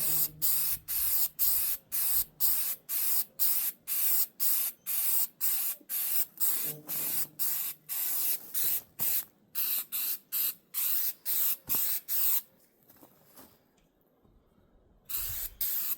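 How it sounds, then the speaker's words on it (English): Flex Seal coating is sprayed onto a root cellar lid in a rapid, regular series of short hissing bursts. After a pause with faint background sound, one more burst follows at the end. "I will probably lightly flex seal the lid."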